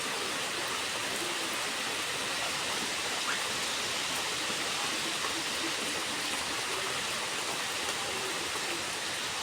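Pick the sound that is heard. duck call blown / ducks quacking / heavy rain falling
heavy rain falling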